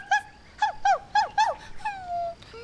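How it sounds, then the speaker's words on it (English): A small dog whimpers in a series of short, high, wavering whines, four quick ones in a row, then a longer drawn-out whine trailing off. "Hello, little doggy."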